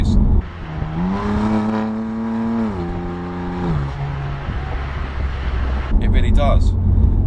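A BMW M4 Competition Package engine revs up, its rising tone holding briefly before falling back, heard from inside the car, followed by a steady road and engine drone.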